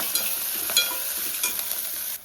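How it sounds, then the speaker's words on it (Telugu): Onions, green chilies, curry leaves and coriander stems sizzle steadily in hot oil for a dried prawn tomato curry, with a few soft stirring scrapes breaking through the constant hiss before it cuts off. "సన్నగా తరిగి పెట్టుకున్న ఉల్లిపాయలు పచ్చిమిరపకాయలు కరివేపాకు కొత్తిమీర కాడలు దీనిలో వేసి"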